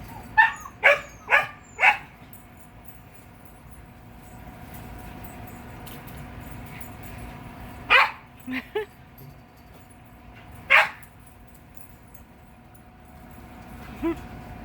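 A maltipoo and a neighbor's dog play outdoors, with clusters of sharp, fairly close barks and yips in bursts, several quick ones early and a few more later, separated by quiet stretches of outdoor background.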